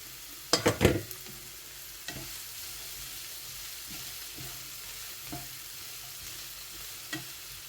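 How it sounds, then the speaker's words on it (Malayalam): Broccoli is tossed into a pan with onion for a stir-fry: a quick burst of clattering pieces landing, then a soft, steady sizzle with occasional faint scrapes, no voices. "അപ്പോൾ തന്നെ നമുക്ക് ഇതിലോട്ട് ബ്രൊക്കോളിയും കൂടി ഇട്ട് കൊടുക്കാം."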